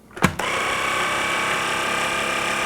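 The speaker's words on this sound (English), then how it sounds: "See how that air is getting pulled out of that bag?" A vacuum sealer draws the air out of a dry, unmarinated chicken cordon bleu bag, starting with a short clunk and then holding a steady, close mechanical hum with a hiss, and no talking.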